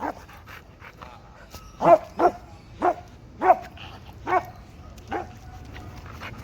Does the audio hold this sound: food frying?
no